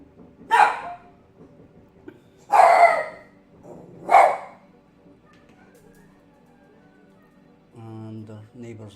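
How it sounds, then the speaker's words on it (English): Several dogs bark in short loud bursts, three separate outbursts a second or two apart, set off by noisy neighbours, followed by a faint steady hum. "And the neighbours are making noise, so the dogs are getting upset."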